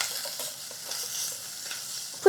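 Meat and vegetables stir-fried together in a pan, a steady soft sizzle with light scraping as the ingredients are tossed, fairly close and without any talk.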